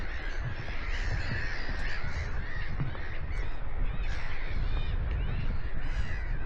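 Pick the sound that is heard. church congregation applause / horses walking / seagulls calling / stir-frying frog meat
seagulls calling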